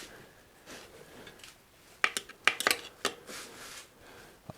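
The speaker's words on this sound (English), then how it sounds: "What you were hearing there was the tire hitting the brake pad." Trek 6500 bicycle tire rubbing against a brake pad during a tune-up, heard as a handful of sharp, scraping ticks in a loose rhythm, close and moderately loud over a quiet background.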